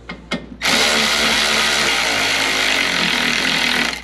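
A power tool drives in the bolts that hold a headlight in a Toyota 4Runner TRD Pro. After two short blips comes one loud, close, steady whir that runs for about three and a half seconds.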